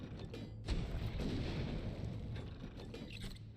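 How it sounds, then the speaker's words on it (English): A cannon fires in the video game ARK, a heavy booming blast followed by a rumbling, rolling low roar that fades slowly, with faint scattered clicks and no voices. "I wish that cannonballs could stack simply to make the fire rate of the cannon faster."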